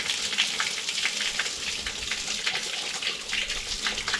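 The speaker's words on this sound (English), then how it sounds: "I can wash my hands." Water pours steadily from an outdoor drinking fountain in Bulgaria as hands are rinsed under the cold stream, a close, continuous splashing hiss with no talking.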